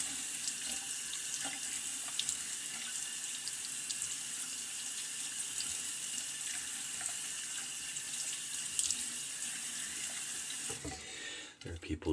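Tap water runs steadily into a sink to rinse a Trac II Jester razor, a continuous close hiss that cuts off abruptly near the end.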